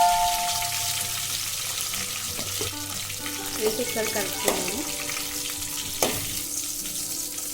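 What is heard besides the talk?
curry leaves and dried red chillies frying in hot oil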